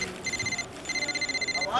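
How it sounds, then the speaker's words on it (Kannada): An incoming call sets a phone ringing: two bursts of a bright electronic ringtone with a steady pulsing rhythm, close and clear, with faint voices in the background. "ನಮ್ ಜಗದೀಶ್ ಕಣೋ ಫೋನ್ ಮಾಡ್ತಾ ಇದ್ದಾನ."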